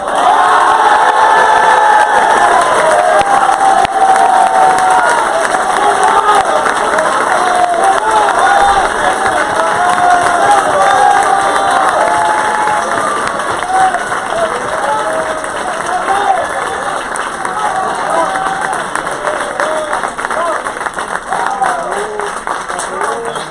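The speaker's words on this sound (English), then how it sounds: "can we give a big round of applause for Mike as well?" A large crowd applauds and cheers for Mike at a 2019 demo day event, sustained loud clapping with shouts and whoops throughout, gradually easing slightly toward the end.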